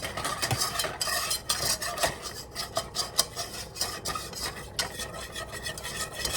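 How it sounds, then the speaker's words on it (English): A gigantic whisk works flour into melted butter in a pan for macaroni and cheese, giving rapid, uneven scraping and rasping strokes against the metal. The strokes are close and continuous, with no talking. "So that's 1/4 of a cup of flour, and we're just going to start stirring that around."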